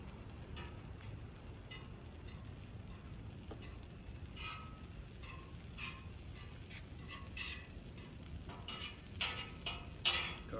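Butter melting on a hot griddle for French toast, a steady low sizzle running throughout with faint scraping and ticking as it is spread around, a few louder clicks near the end.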